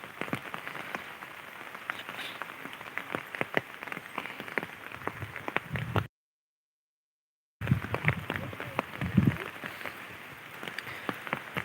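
Steady rain pours down on a native chicken farm with freshly planted fields, a dense continuous hiss with scattered sharper drops, briefly cut to silence midway before resuming at the same level.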